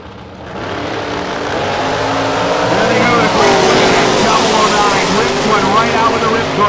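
A drag strip launch with a 96 dragster and other racing cars, a loud engine roar that swells and holds steady as the cars accelerate away, heard at a distance.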